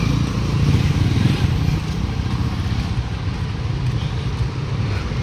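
Motorcycles rumble along a town road in Abuyog, a steady loud engine drone with traffic noise throughout and faint voices underneath.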